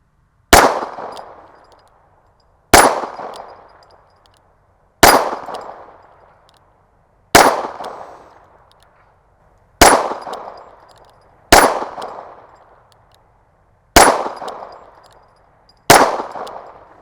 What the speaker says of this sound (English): And now I'm shooting Federal 36 grain bulk pack.